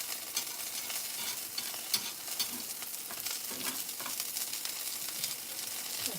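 Food sizzles steadily in a pan while a steel spatula scrapes and stirs through it in irregular strokes, close and continuous with no talking.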